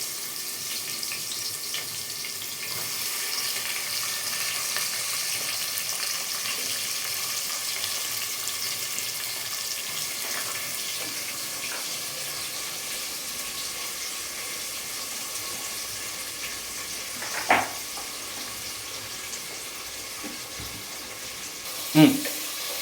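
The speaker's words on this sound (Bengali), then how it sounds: "পেঁয়াজটা একটু ব্রাউনিশ করে ভেজে নিচ্ছি।" Chopped onions fry in a pan of oil with cumin for a Bengali mutton curry, giving a steady, soft, even hiss that runs throughout. Two brief clanks of utensils sound near the end.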